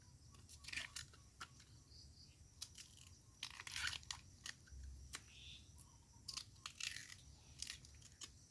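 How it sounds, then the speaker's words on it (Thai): Bamboo shoots being foraged for a midday curry in a planted grove, with faint, irregular crunching and chewing-like clicks scattered over a quiet outdoor background with insects. "กำลังเคี้ยวอยู่วะ"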